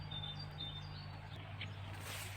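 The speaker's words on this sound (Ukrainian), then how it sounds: "Ось така у мене пташка покажу вам." A small bird chirps faintly in a garden by a flowerbed, giving a few thin, high tweets over a steady low background hum.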